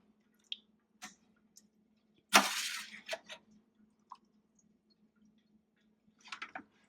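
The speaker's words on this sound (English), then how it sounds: "So now I'm lifting them off of the water and I'm putting them in this strainer." Blanched tomatoes lifted out of water into a strainer, giving a few scattered drips and small wet clatters, with one louder splashing burst in the middle and a quiet kitchen hum beneath.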